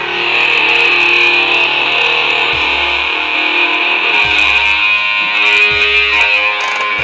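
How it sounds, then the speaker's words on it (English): Keyboard notes play through a talk box's small horn driver, fed from an amp, producing a loud, sustained, nasal buzzing tone with distorted edges and occasional low thumps underneath. "So all that sound is coming through that little horn driver in there inside the talk box"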